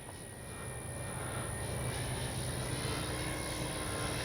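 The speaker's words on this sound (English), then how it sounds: "Love flying this plane." A Flex RV8 60E radio-controlled model airplane flies overhead, its motor producing a steady, sustained high-pitched drone that swells gradually and holds at moderate loudness throughout.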